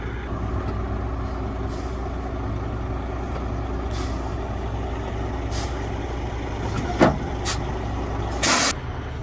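A tow truck idles as a semi is hooked up for a rear tow: a steady loud diesel rumble throughout, with a few sharp hisses of air brakes and clanks of hitch gear near the end.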